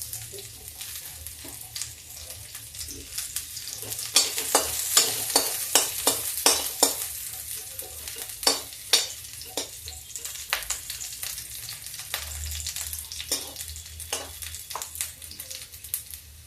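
Garlic and green chillies fry in a pan with a steady sizzle, while a spatula scrapes and taps in a regular rhythm, close and unaccompanied by talk.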